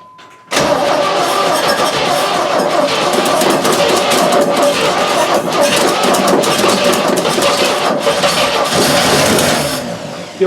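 An old engine that had not run in 30 years bursts into life and keeps running loud and close for about ten seconds, a rough, steady mechanical roar that then cuts off abruptly.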